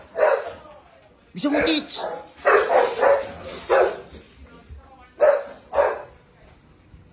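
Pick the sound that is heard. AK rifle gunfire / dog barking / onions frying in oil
dog barking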